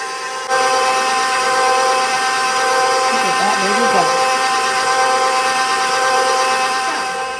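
Electric mixer beating lemon blueberry bundt cake batter, a steady motor whir running throughout under continuous talk.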